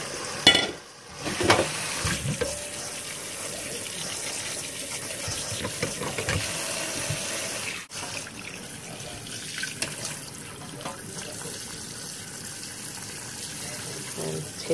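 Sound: running cold tap water over cooked saltfish

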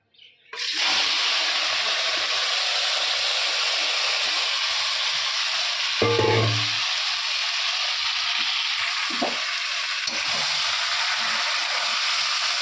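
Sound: chicken frying in oil in wok

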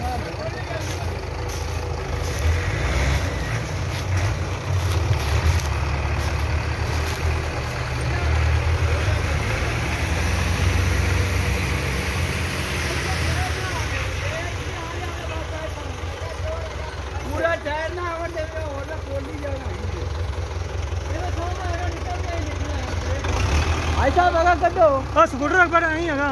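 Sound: Belarus tractor engine running while getting unstuck

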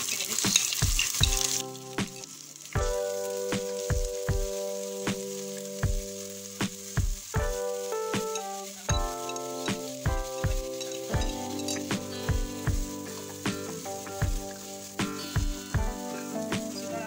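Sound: onions frying until brown in pan

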